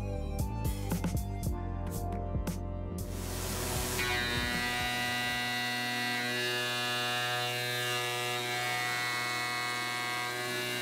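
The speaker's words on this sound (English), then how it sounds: "Using a 1/4 inch end mill with a really long stick out here to clean up this part after the Superfly" A CNC mill cuts an aluminum beer tap mount with a 1/4 inch end mill on long stick-out, a few rough intermittent bursts giving way to a sustained, steady high-pitched whine and hum, loud and close with no voices.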